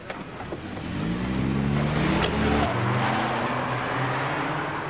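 A black BMW getaway car pulls away from a shop, its engine revving loudly and steadily close by as it drives off, with no talking.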